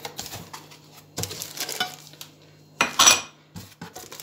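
Clanking metal as a Korkmaz steel teapot set is unboxed and handled, with scattered knocks, a loud ringing clatter near the end and quieter rustles between.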